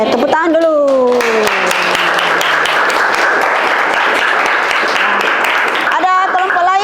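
Classroom applause from a group of students, steady dense clapping filling most of the clip, with voices rising at the start and children talking again as the clapping fades at the end.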